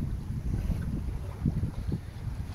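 A sailboat sails off the wind at about seven knots with a reefed mainsail and full genoa between Bonifacio and Sardinia, water rushing and sloshing against the hull under steady wind noise.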